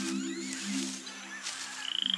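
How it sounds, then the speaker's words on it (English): Poison dart frogs in a rainforest near water give a steady low croaking chorus, with a faster series of sharp high chirps rising toward the end; no one speaks. "There's tons of poison dart frogs."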